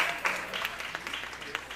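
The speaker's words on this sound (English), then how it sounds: "Mr. Harrison, round of applause for him, please." An audience at an ADA 35th anniversary proclamation ceremony claps, a brief scattered patter of applause that is fairly faint and mixed with some background voices.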